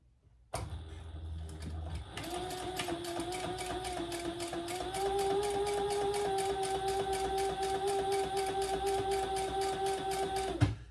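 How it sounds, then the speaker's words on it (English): A sewing machine stitches two rows with Tech 70 white thread on a bag, running in a fast, steady mechanical whir with rapid repeating needle beats that pause briefly and then continue close up. "So I'm going to go ahead and I'm going to put 2 rows of stitches on it."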